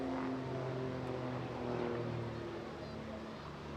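A Grob Tutor propeller training aircraft flying an aerobatic display at an air festival, a droning engine note rising and falling as it manoeuvres, fairly faint, under a commentator's voice.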